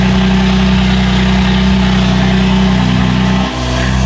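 Exhaust of a BMW F80 with its Valvetronic valves closed, a loud, steady, low droning idle that rumbles without a break and dips briefly once.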